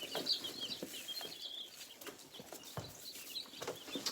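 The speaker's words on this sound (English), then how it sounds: "Cornish cross aren't really foragers, but these are Cornish rock crosses" Young Cornish rock cross chicks peeping and clucking close by, with soft rustling and light fluttering sounds through the short stretch.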